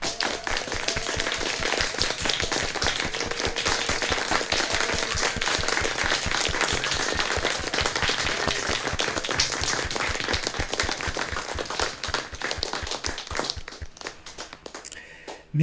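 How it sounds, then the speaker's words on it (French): Sustained applause for nurses and caregivers after 9 pm, dense steady clapping from many hands that holds loud throughout and thins out near the end. "nous applaudissons nos soignantes et nos soignants"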